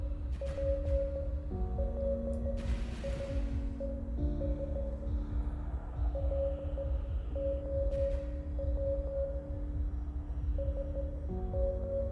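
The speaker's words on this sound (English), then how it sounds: "I appreciate the Morse code." Steady electronic Morse code beeps in the space video game Delta V: Rings of Saturn, tones pulsing in irregular dot-and-dash patterns over a constant low hum for the whole stretch, with no talking.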